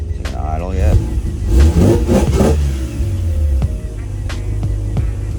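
A Mazda RX-7 FC with an S4 rotary engine revs sharply several times, loud and close, then drops back toward a steady idle hum.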